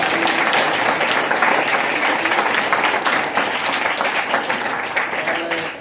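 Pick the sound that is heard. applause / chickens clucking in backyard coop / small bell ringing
applause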